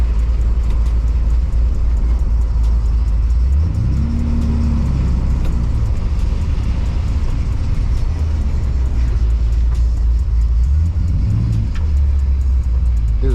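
1964 Chevy engine running unevenly after a 4L80E transmission swap: loud, close low rumble with a couple of swelling revs, heard inside the car with wind-like buffeting and no talk.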